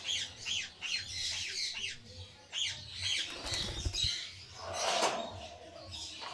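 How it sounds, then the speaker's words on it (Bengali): Pigeons in a loft housing many breeding pairs flap their wings in several close, loud bursts, with a few squawks and chirps between the flurries. "আপনাদের জাস্ট আমি কবুতরগুলো দেখাচ্ছি।"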